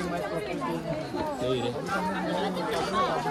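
A dense hubbub of many voices fills a crowded market near a hotel in Manali, steady and close, with people talking throughout.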